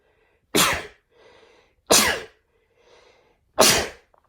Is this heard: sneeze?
yes